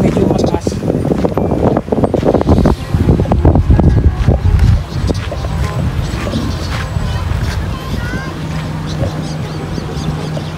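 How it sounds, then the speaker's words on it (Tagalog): Strong gusting typhoon wind roars and buffets steadily, with rumbling low-end bursts and a few muffled voices underneath. "Magulo hangin sa baba."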